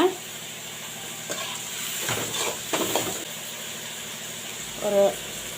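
Onions, curry leaves and slit green chillies sizzle steadily in hot oil in a pan for idli upma, with stirring scrapes and a brief clatter partway through.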